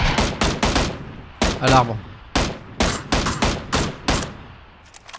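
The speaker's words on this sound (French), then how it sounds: "Ah, mais ça tire derrière nous encore, non?" Close, loud bursts of gunfire in PUBG crack out in rapid clusters and single shots throughout, with someone briefly speaking French partway through.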